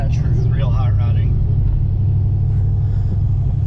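A 2008 Ford Mustang GT with a freshly swapped 6R80 transmission on its first drive, its engine a steady deep rumble from inside the car, with a voice sounding at the start.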